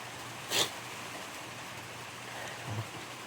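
Steady rain hisses around a hut during a storm with wind, a broadband wash throughout, with a brief louder splash or gust near the start and a small bump near the end.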